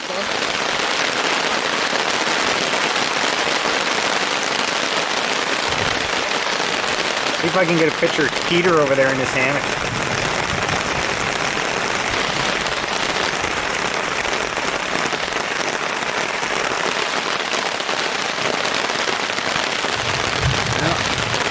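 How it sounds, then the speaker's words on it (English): Steady rain falls on a lakeside hammock campsite, a constant dense hiss of drops on tarp and foliage, with someone talking briefly midway over it. "it has continued to rain"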